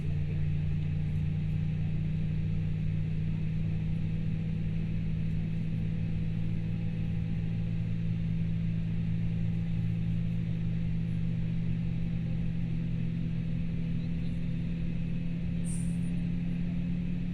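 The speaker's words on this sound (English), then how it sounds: "let's wait a little bit for the first engine to cycle up" Aircraft engine spooling up in a flight simulator game, a steady low droning hum with a constant whine above it, continuous and unchanging throughout, no talk.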